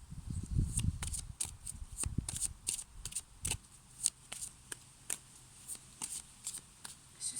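Oracle cards being reshuffled by hand in a garden, a run of crisp riffling snaps and light flicks at an uneven pace, with a dense burst at the start and separate taps and cuts after.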